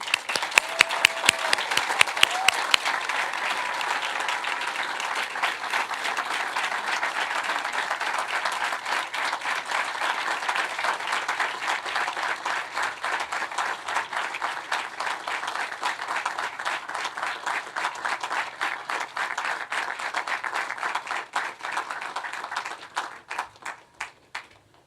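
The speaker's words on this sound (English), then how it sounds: "let's just give them a big hand of applause" An audience at a tower dedication ceremony gives a long round of applause, some close sharp individual claps over a steady crowd wash that carries on for over twenty seconds before thinning out.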